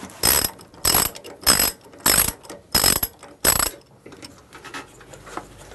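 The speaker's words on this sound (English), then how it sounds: "let's just open the nut on the bottom of the carburettor now and see what we've got inside." A ratchet wrench clicks in six loud, evenly spaced bursts as it loosens the nut on the bottom of a petrol lawnmower carburettor, then fainter scattered clicks and handling sounds follow.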